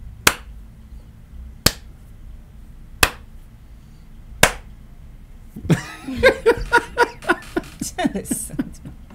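Four loud, close single hand claps land slowly and evenly, about a second and a half apart, followed by a burst of laughter and voices.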